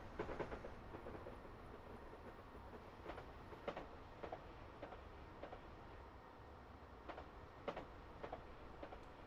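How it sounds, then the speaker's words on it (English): A train rolls past in the distance, a faint steady rumble broken by a series of light clickety-clack wheel knocks at irregular intervals. "So there's another train going by."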